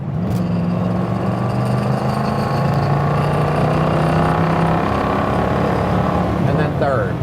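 A classic car with a three-speed manual transmission accelerates in second gear, its engine droning loud and close with a steadily rising note and a gear change near the end.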